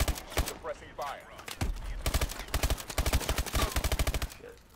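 Bursts of rapid suppressing machine gun fire in a Call of Duty: Advanced Warfare battle near turrets at a target building, loud rattling volleys in quick rhythmic runs, with a voice heard briefly at the start.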